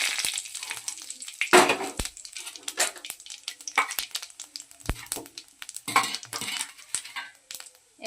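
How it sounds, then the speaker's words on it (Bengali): Whole spices dropped into hot oil for a Bengali tempering, crackling and sizzling with intermittent sharp pops and stirring clinks, close and fairly quiet, continuing steadily throughout. "তেলটা আমার গরম হয়ে গেছে, এবার আমি ফোড়নে এগুলো দিয়ে দিচ্ছি।"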